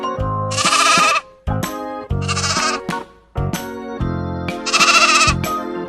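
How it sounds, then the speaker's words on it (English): Sheep bleats sound in three loud, wavering bursts, each followed by a short pause, over a steady bed of background music. "Sheep."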